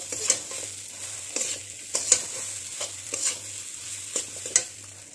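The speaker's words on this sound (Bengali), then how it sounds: "চিকেন মশলা দিয়ে আর একটু নেড়ে চেড়ে নেব।" Mashed jackfruit seed dal is stirred in a pan with a little chicken masala, giving repeated scraping strokes and soft clicks of a spoon against the pan over a low sizzle, with no talking.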